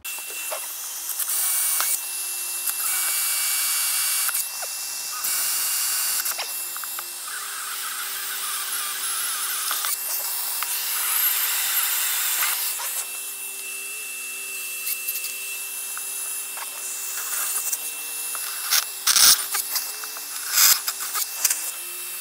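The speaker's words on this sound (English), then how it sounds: "it's time to drill some holes" A power drill boring fixing holes for deck-gear track into the deck of a Contessa 32 sailboat, a steady whining motor drone running almost continuously with slight pitch shifts and a few short bumps near the end.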